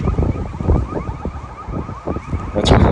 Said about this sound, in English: It sounds exactly like a police siren just going off nonstop.